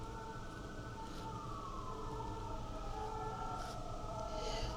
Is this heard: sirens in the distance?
yes